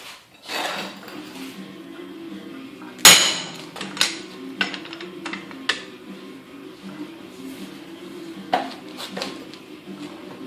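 A 17 mm impact socket on a breaker bar works a stubborn lug nut loose on a Mini Cooper during a tire rotation, with one sharp loud metallic snap followed by lighter clanks and knocks of tools nearby.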